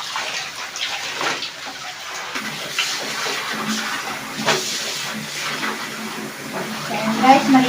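Water splashing and running as cross stitch pieces dyed with DMC thread are rinsed by hand in a basin, a steady close wash of trickling and sloshing with brief voice sounds.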